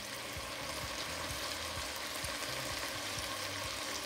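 Salt codfish hits a hot pan for a Caribbean gravy, setting off a steady, dense sizzle and frying hiss that holds evenly throughout, close and fairly loud with no talk.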